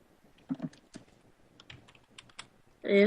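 Computer keyboard typing for Minecraft chat: a few sparse, quiet key clicks spread out in irregular taps, then a brief louder burst at the end.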